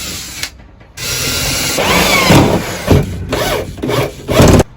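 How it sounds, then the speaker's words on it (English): A power drill whirs in repeated close bursts, rising and cutting out, with ratcheting, grinding bites as security screws are driven into a metal security door. "I'm just going to drill these and put in our safety screws"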